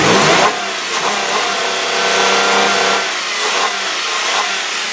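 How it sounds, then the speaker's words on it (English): A black 2001 Chrysler Concorde engine is revved hard up to the rev limiter, a loud, close mid-pitched roar that surges, holds, then dips and swells again in repeated pulls, with no voices. "Let me rev it up for you."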